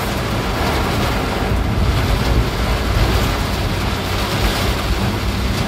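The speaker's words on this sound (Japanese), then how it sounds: "激しい豪雨" A sudden heavy downpour mixed with hail drums on a car travelling through Hanyu toward Gyoda, Saitama, a dense, continuous roar filling the cabin without letup.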